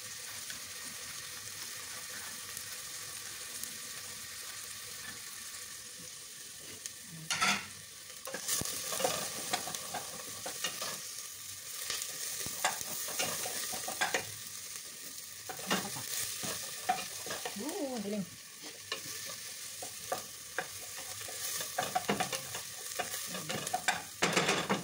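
Garlic fries in a pan for a bean and meat dish, with a continuous sizzle and repeated scraping stirs of a utensil against the pan, up close and without talk.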